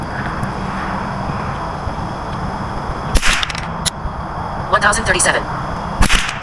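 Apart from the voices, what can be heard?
Ruger 10/22 rifle gunshots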